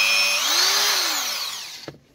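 A cordless screwdriver with a newly replaced reverse switch whines steadily, its pitch rising and then falling as it spins down, and it ends with a sharp click before silence.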